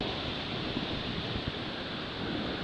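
Steady, roaring wind of about 35 mph buffets the microphone on a river, a dense continuous rush with slight surges and no voices.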